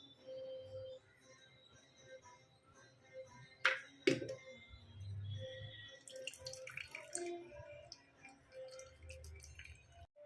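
Ash gourd and amla juice drips and trickles through a filter in a kitchen, with soft splashes and two sharp clinks of utensils midway, followed by light rustling and handling sounds, fairly quiet and with no talking.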